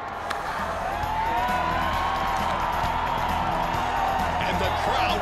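A crowd at an all-star staff award ceremony cheers and applauds steadily, a dense wash of clapping and whoops holding at an even level throughout.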